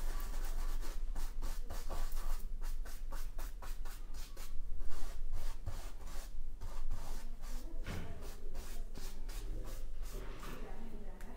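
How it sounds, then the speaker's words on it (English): A brush sweeps excess metal flakes off a crafted surface, giving close, dry, repeated scratchy strokes in a steady rhythm with bristly rubbing texture throughout. "you just need to remove the excess of the metal flakes with a brush"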